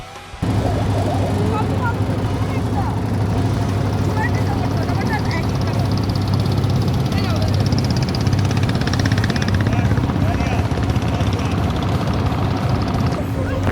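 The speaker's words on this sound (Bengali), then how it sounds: "পাশে দিয়ে একটা যাত্রী ভর্তি ট্রলার গেল।" A passenger-laden trawler's engine drones loudly and steadily throughout, a deep chugging hum that stays close, with faint voices underneath.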